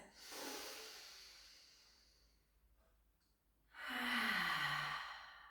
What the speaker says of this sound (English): Take a big breath in through the nose.